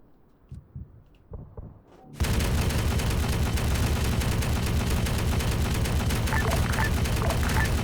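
Cannon and gunfire in a war video game set in a Russian 2020 campaign erupt suddenly after quiet thuds, becoming a loud, dense, continuous barrage of rapid shots and booms.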